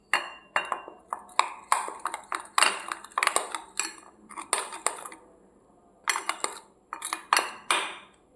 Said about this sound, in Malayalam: ഈ നീലാമരി പൊടിയും ഇതുമായിട്ട് നന്നായിട്ട് നമുക്കത് മിക്സ് ചെയ്തെടുക്കണം